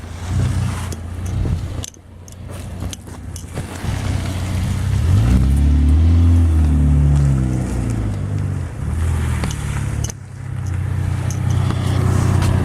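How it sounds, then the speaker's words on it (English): A vehicle engine rumbles steadily, swelling louder as it passes close by, with road noise underneath and no talking. "there's a car behind me."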